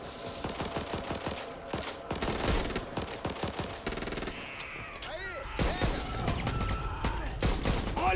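Rapid video game gunfire fills the scene, with bursts of automatic shots and heavy volleys crackling loudly and almost without pause, and a few sweeping whooshes layered over the barrage.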